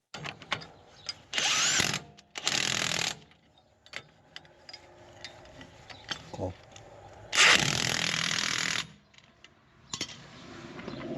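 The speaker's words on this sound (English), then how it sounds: "we just drop these little bolts in up here through these holes, and then we'll just tighten it all down" A power tool drives small bolts into the frame of a cotton buggy in short bursts, three loud whirring runs with pauses between, plus some faint clicks and handling noise in a quiet outdoor setting.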